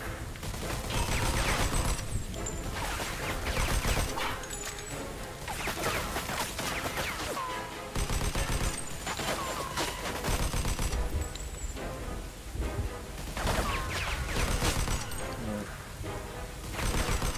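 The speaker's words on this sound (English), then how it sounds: "I know I'm going to use the submachine gun" Submachine gun fire in the video game Mafia II rattles in dense, repeated bursts over busy game sound, with only brief gaps between volleys.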